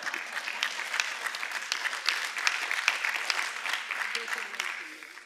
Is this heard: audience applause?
yes